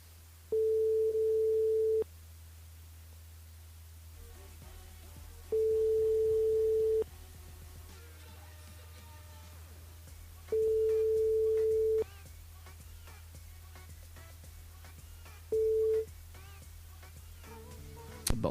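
Ringback tones on a telephone line while a radio show dials a listener: four long steady beeps at even intervals, the last one cut short, over a constant low hum and faint background noise.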